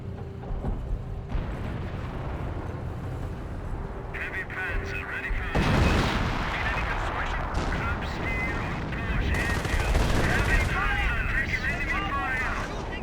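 A 25-pounder artillery barrage in the Company of Heroes game, with repeated booming impacts and rumbling blasts over about thirteen seconds, layered with game effects and a talking voice.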